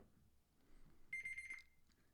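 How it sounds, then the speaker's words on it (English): A short run of rapid electronic beeps from a small tea timer, high-pitched and steady, over a faint low background hum. "Sorry about that beeping."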